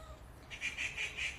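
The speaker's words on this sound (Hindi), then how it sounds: "तो बहुत सारा चिड़िया आता है और चिल्लाते रहता है।" Several birds call outside a house, repeated high chirps arriving in a steady series after a quiet start, moderately close over low background rumble.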